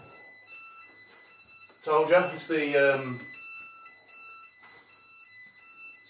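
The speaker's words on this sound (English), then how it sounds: "it's just the fire alarm board" A fire alarm board sounds a continuous steady electronic tone with stacked harmonics throughout, while a person talks briefly over it in the middle.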